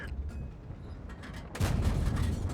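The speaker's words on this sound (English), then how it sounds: "Artillery just shooting us." Artillery shell striking a tank in the video game World of Tanks: a muffled ambient battlefield rumble, then a sudden heavy impact about midway that stays loud and rumbling to the end.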